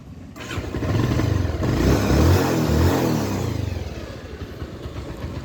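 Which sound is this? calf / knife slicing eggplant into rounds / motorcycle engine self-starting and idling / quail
motorcycle engine self-starting and idling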